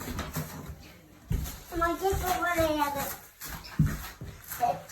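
Dog whimpering at a lively home birthday party, faint thin whines rising and falling over several seconds, heard under people talking nearby.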